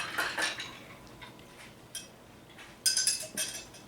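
A slivovice cocktail is stirred in a glass, giving light metallic clinks and tinkling spoon strokes in short bursts, quiet and close, with no voices.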